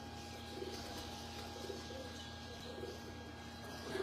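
Pigeons coo softly from a Lahore rooftop loft, with several low, rounded calls repeating at intervals over a steady murmur of background noise and a faint constant hum.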